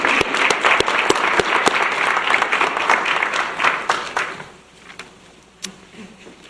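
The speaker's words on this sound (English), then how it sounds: "Can we give Denise McDonough a round of applause for Lisha Duarte?" An audience applauds an award recipient at a college teacher appreciation night, a dense, fairly loud burst of clapping for about four seconds that thins out to a few scattered claps.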